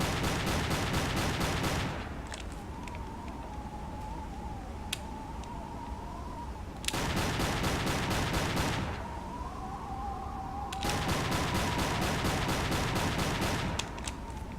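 Gunfire against a ship in the submarine game Silent Hunter III comes as repeated rapid bursts of shots in separate volleys, with a quieter droning tone between them.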